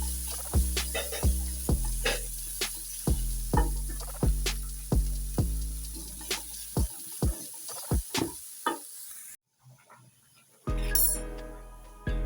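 Chicken and tomatoes stir frying in a pan for a homemade chicken burger, a steady sizzle broken by repeated sharp knocks of a spatula or utensil against the pan, briefly going quiet near the end before the sizzling returns.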